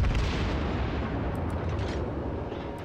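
The battleship Fuso's main guns fire in World of Warships, a heavy booming salvo that rolls on as a dense, loud low rumble and slowly fades over a few seconds.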